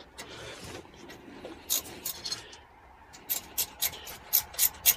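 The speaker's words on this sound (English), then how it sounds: "I've got my ratchet here with the screwdriver bit in it." A ratchet fitted with a screwdriver bit tightens a screw, giving short, sharp clicks in quick bursts, faint and close, over a soft rubbing background.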